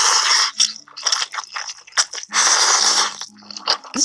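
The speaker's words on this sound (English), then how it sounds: "This is some intense slurping." Loud, close slurping of ramen noodles in repeated wet bursts with brief pauses, plus some chewing.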